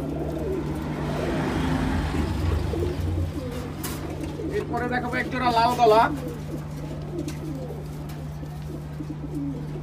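Cooing from a pair of red-barred high-flying Bengali pigeons rolls on beneath a voice speaking, with a brief burst of chirpy calls near the middle, the birds close and fairly steady.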